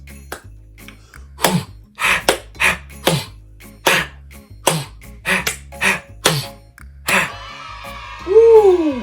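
Hand claps and swishy, percussive hits on an ocean drum follow a steady rhythmic pattern, fairly close and loud, before a voice joins at the end with a sliding pitch.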